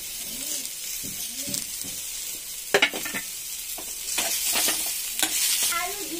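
Ginger, curry leaves and green chillies fry with sweet potato in a pan, with a close sizzle and repeated stirring scrapes while a voice talks over it.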